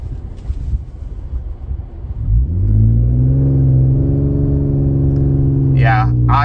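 A Toyota Tundra engine revs up under acceleration, starting with a low rumble and building into a strong, rising growl heard from inside the truck. Wind noise sits underneath, and a brief voice comes in near the end.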